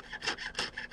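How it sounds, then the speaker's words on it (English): A jeweler's saw starts a cut in metal with short rhythmic rasping strokes, about five quick up-and-down passes within a second, close and clear with no voices. "Keep your saw blade vertical and worry about your saw blade going up and down"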